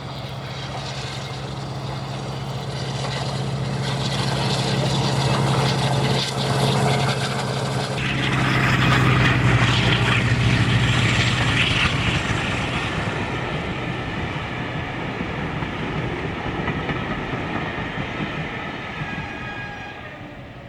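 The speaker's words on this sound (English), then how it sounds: "rounding Safari Curve, we hear Western Courier's Maybach V12s to glorious effect" Class 52 diesel locomotive D1062 Western Courier works past on a curve toward a tunnel, its Maybach V12 engines giving a deep, sustained throbbing roar that swells loud and close, then slowly fades.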